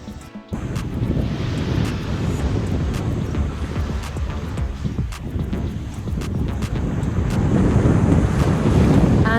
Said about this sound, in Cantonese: 步行往隔離有個好靚沙灘，水清沙